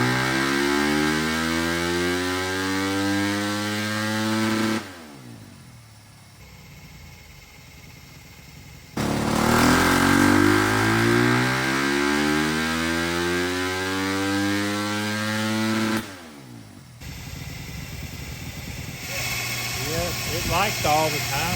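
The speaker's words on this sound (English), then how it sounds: "After a few more runs at full throttle and fine-tuning the map, Justin was able to get the lambda reading a" Yamaha YZ250 dirt bike with a 304cc big bore kit running on a dyno, two long full-throttle pulls with the engine note sweeping upward in pitch, loud and close, each followed by a drop to idle.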